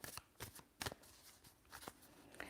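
Cards are shuffled in several quick riffles, crisp fluttering bursts spaced unevenly, close and fairly quiet.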